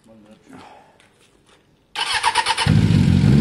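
A Suzuki Bandit 600 motorcycle, a carbureted bike with a weak battery and little fuel, cranks and catches at once, settling into a loud, close, rough idle that runs to the end after some quiet shuffling.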